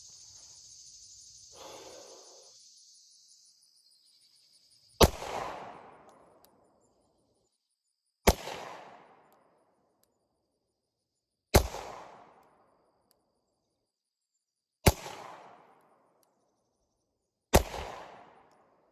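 Five pistol shots from a Glock 43X fitted with an Arc Division Sparc43 V2, fired outdoors at a range, each sharp crack ringing out alone with a decaying tail, spaced a few seconds apart after a faint hiss.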